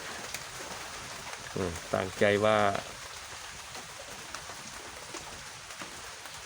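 Heavy rain pours steadily onto surfaces outdoors, making a continuous dense hiss throughout. A voice briefly speaks over it near the middle.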